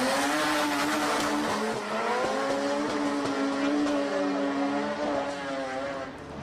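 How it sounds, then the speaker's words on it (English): A red Mazda RX-7 and a Nissan S14 drift together on a race circuit, engines wailing with rising and falling revs and tire squeal, loud and sustained as the cars pass close. "After a restart, the red RX-7 and S14 look serious."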